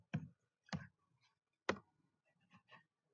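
One-handed typing on a computer keyboard: five sparse, separate key clicks, quiet and close, with uneven gaps between them and silence in between.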